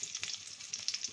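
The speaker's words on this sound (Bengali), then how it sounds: "শুকনো লঙ্কা ফোড়ন দিলাম" Dried red chillies hit hot mustard oil in a tempering, giving a brief, close, bright sizzle with quick crackling pops, steady and alone with no voices.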